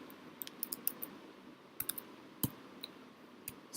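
A name is typed on a computer keyboard as a run of quick, light key clicks in small irregular bursts, close and quiet, with no voices.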